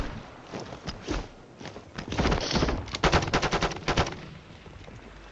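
A burst-fire gun in Call of Duty Warzone fires close and loud, with rapid clustered shots building from scattered early bursts to a tight run of reports near the middle before trailing off.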